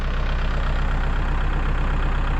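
High-clearance farm tractor with a cassava-ridging disc plough, its engine idling close by in a steady, loud low throb with a rapid even pulse and no talk over it.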